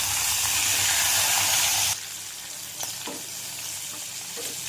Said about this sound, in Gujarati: ચપટી હિંગ અને આખા લસણ નાખી સાતળી લઈશું હવે એની અંદર જે ભીંડા ભૈરા છે ને એ આપણે નાખી દઈશું